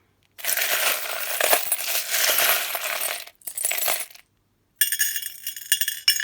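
Three small astrology dice rattle and clatter on a hard surface in a few short, bright bursts separated by brief pauses.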